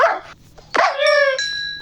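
A dog barks twice up close in a video game, the second bark a sharp, ringing yelp that trails off, with a faint electronic tone behind it.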